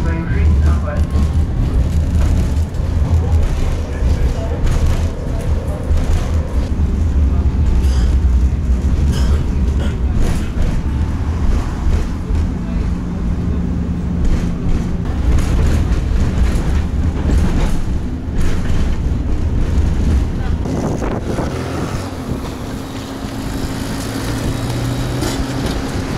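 Continuous rumbling and rattling of a tram in motion in Izhevsk, Russia, loud and close, with people talking over the ride noise.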